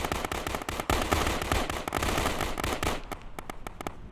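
Sustained rapid gunfire from a four-man team opening up on targets across a road, dense overlapping bursts for about three seconds, then scattered single shots trailing off.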